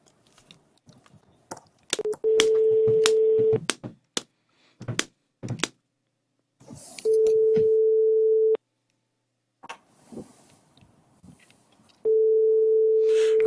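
A telephone line during dialing gives three long, steady, loud tones separated by quiet gaps, scattered clicks and soft thumps, with no voices.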